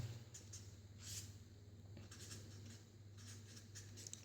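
A line written on a board during a maths lesson, heard as a steady scratchy stroking with several short bursts over a constant low hum, fairly faint and without talk.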